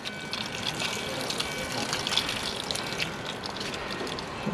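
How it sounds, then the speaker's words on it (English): Water draining out of opened plumbing while a broken hose bib is replaced at a house in Tempe, Arizona, a steady faint gush and trickle running throughout. "get all the water out of there"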